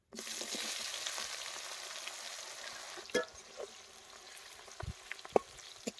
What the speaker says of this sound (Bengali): পেঁয়াজগুলো হালকা লাল করে ভেজে নেব